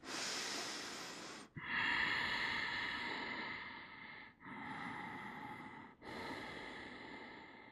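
Slow, steady breathing from a person holding a yoga camel pose, long continuous breaths broken by three brief pauses, close and fairly loud with no talk.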